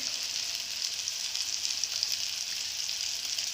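Turmeric, salt and homemade chilli masala sizzle steadily in hot oil while being sautéed for an okra dish, a continuous close hiss with no talk.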